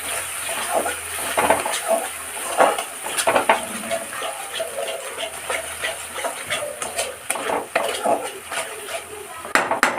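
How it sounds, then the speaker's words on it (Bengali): Spices being stirred into a pot of potato biryani with whisked sour yogurt, a spoon scraping and clinking against the metal pot in busy, uneven strokes, close and fairly loud with no voices. "দিয়ে ভালো করে নেড়ে নিচ্ছি।"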